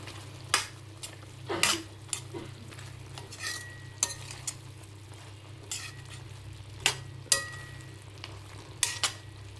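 Mutton keema curry with cashews and drumsticks being stirred in a pan, with curry leaves and coriander, giving scattered scraping and clinking spoon strokes over a steady low sizzle, with no talk.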